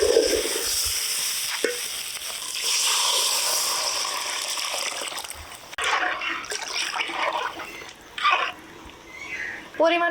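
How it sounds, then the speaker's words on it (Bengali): Water pours and trickles into a pot of sautéed rice, lentils, chicken and spices, a steady liquid hiss with some stirring and clinks, close and moderately loud, with a person talking over parts of it. "এবার জল দিয়ে দেব"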